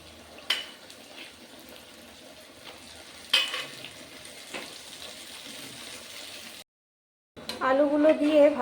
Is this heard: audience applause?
no